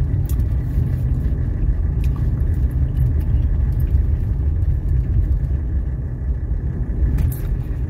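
A diesel Mercedes car drives while still warming up, a steady low rumble of engine and road noise heard from inside, with faint light rattles and no talk.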